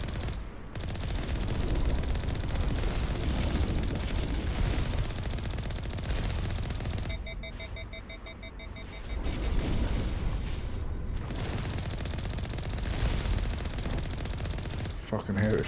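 Heavy turrets firing in Mass Effect Legendary Edition, sustained loud bursts of gunfire and booming blasts that dip briefly before resuming.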